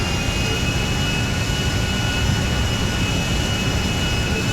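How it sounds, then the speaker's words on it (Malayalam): Jet airliner engines roar steadily in GTA 5 during a plane hijacking at Los Santos Airport, a loud, constant broadband rumble with a faint high whine, with no voices over it. "ഈ പ്ലെയിന് ഭയങ്കര ശബ്ദമാണ്"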